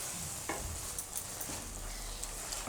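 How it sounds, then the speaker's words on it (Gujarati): Palak paneer bhurji of spinach and paneer cooks in a pan, giving a steady soft sizzle with a few light stirring scrapes, close and continuous with no talk. "તો આને આપણે થોડીક વાર પકાવી લીધીશું આ રીતે."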